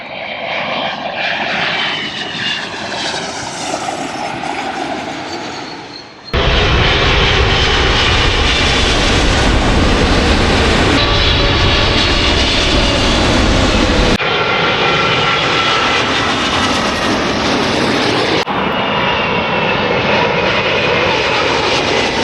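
Aircraft engines roaring at Heathrow Airport, a loud sustained drone that shifts in tone as planes pass, cutting abruptly between powerful close-range segments with no voices.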